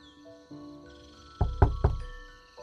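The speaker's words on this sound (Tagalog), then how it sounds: "nagising ako sa isang malakas na katok mula sa labas" Loud knocking on a door from outside, a few sharp heavy raps in quick succession following a quiet stretch, with some faint background tones.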